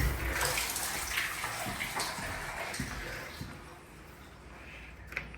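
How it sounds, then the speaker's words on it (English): Apartment shower running hot water to warm up, a steady close hiss of spray with faint splashing and a brief knock near the end. "We hear our shower."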